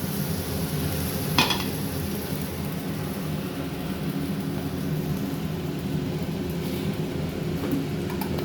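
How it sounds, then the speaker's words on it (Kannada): Dosa batter sizzles on a hot griddle (hanchu) as a steady, close hiss. One sharp utensil clink breaks through early on. "ದೋಸೆ ಹುಯ್ಯೋಣ. ಹಾಂ, ಇವಾಗ ಹಂಚು ಕಾದಿದೆ."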